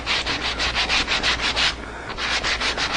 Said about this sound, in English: I'm sanding that little edge off right there